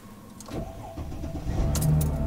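A car engine starts and then idles with a low, steady rumble that grows slightly louder toward the end, with no talking over it.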